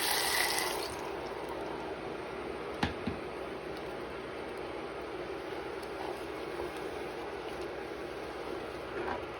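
A blended mix of onion, red pepper and tomato sizzles and fries in hot oil in a pot for Cameroon Poulet DG, a steady, close hiss with faint crackles and a couple of sharp clinks, no voices.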